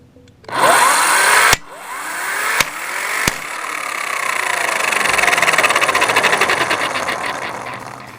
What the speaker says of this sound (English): Once the socket is on the rim, press the loosen button.